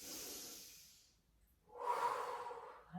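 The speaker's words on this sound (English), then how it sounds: "Just do some deep breathing, thoracic breathing." Slow, deep breathing during a gentle in-bed stretch routine, in through the nose and out through the mouth: a soft airy inhale that fades, a pause, then a longer, louder breathy exhale, close and quiet.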